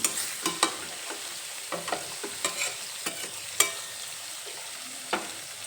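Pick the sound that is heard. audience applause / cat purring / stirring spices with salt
stirring spices with salt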